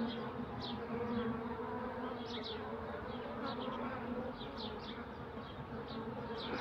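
Dense, steady buzzing of many honey bees crawling over an opened hive frame during a colony inspection, close and continuous with no talk.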